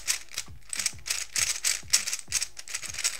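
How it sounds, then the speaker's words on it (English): A 3D printed magnetic speedcube being turned quickly, a rapid run of rattly, crisp clacks in an uneven rhythm, close and fairly loud with no talking. "You can definitely hear that it's kind of rattly sounding and crispy and clacky"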